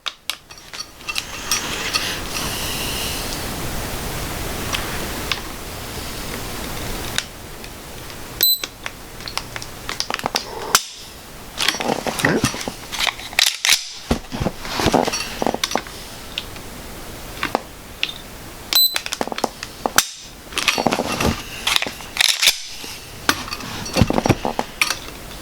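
A Timney Alpha competition trigger fitted to a Glock is pulled repeatedly against a trigger pull gauge, giving scattered sharp clicks and metallic snaps among handling rattles and faint shuffling, close up.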